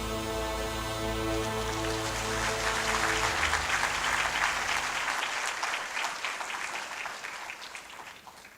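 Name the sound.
audience applause at conference opening ceremony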